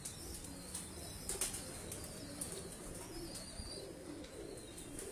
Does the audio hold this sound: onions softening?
no